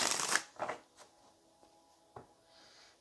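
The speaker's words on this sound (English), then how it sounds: "let's get one more shuffle" Tarot cards being shuffled close up, a few quick riffling bursts early on followed by softer scattered taps and slides, quiet with no talking.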